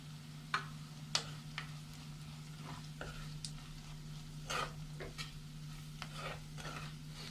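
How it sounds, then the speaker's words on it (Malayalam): Chilli powder being sautéed in a pan for beef vindaloo, quiet faint sizzling under a steady low hum, broken by intermittent sharp scraping and tapping of a spoon against the pan. "ഇതിൻ്റെ പച്ചമണം മാറുന്ന വരെ വഴറ്റി കൊടുക്കാം."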